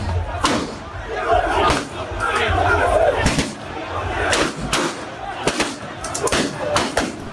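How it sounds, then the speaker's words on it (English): Protest crowd at an election collation centre in news footage, loud shouting and chatter broken by a series of sharp, cracking gunshot-like bangs scattered irregularly across the span, some close and loud. "This video shows protest from the crowd. Then the shooting starts."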